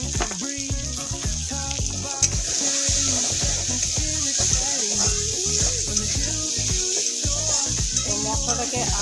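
Chopped tomatoes with chili fry in a pan for a soybean and potato curry, a steady close sizzle running under a prominent tonal, melodic background sound throughout.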